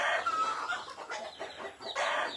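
Rhode Island and other chickens on a farm cluck and squawk up close in a short, continuous stretch of busy fowl chatter.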